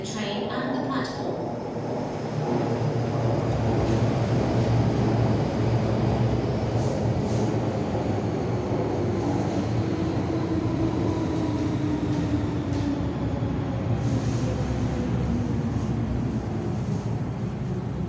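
A Hong Kong MTR subway train sits at Wan Chai platform, its steady low rumble and hum filling the station, with a few brief clanks and a faint tonal whine rising and falling.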